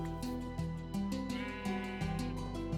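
A Minecraft sheep bleats a few times, faint and brief, over steady plucked background music with no talking.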